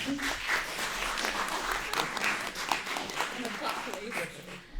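A student election audience claps for candidates at a question-time event, the applause continuing loosely while voices talk over it.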